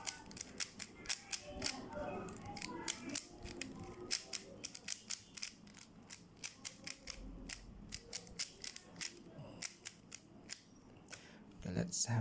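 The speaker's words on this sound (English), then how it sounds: "let's solve a 3 by 3 Rubik's Cube, and this would be our first shuffle" A 3x3 Rubik's Cube is shuffled by hand, sharp plastic clicks and snaps of turning layers coming in quick irregular bursts, close and crisp, with short pauses between runs of turns.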